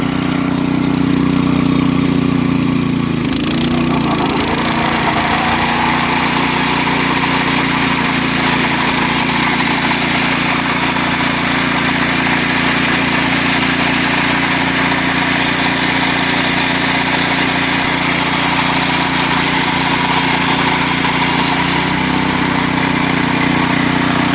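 A petrol engine on a rotary lawn mower runs steadily and loudly close by for the whole stretch, its low drone holding even with a brief dip in pitch early on, and no talking over it.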